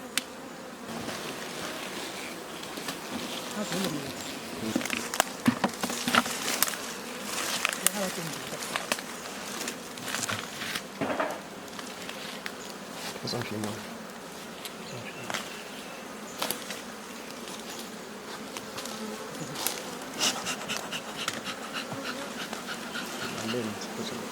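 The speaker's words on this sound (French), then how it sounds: "il y a des abeilles qui sont vraiment très furieuses" An agitated swarm of honeybees buzzes densely around a hive in a village apiary, a continuous close hum with sharp passes of individual bees, while people talk intermittently and a dog is faintly heard.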